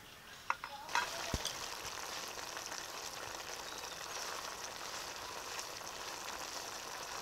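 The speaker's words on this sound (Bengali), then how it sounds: "এখন লাউ শাকটাকে ভালো করে সিদ্ধ করে নেব।" Bottle gourd greens boil in a pot on a kitchen stove, giving a steady, faint hissing bubble that carries on evenly after a couple of small clinks at the start, with no talk.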